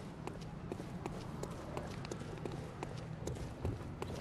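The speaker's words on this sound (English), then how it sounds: "So there's its footsteps." A bug-like enemy scrabbles and skitters about in the dark game world of Bloodborne, a fast, steady patter of light clicking footsteps running close by under a low ambient hum.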